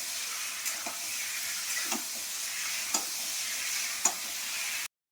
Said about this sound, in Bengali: ওইখানে আলুগুলো আমি একে একে দিয়ে দিচ্ছি